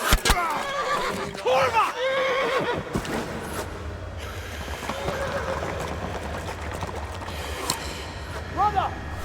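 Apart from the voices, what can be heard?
horses neighing and hooves in Kingdom Come Deliverance video game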